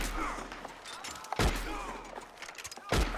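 Guns fire in a Red Dead Online shootout, with two heavy thumping shots standing out from a rumbling, busy background of game noise, and the bursts are spaced a second or so apart.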